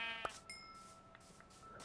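A single sheep bleat from Minecraft, short and fairly clear over a quiet background with faint electronic tones.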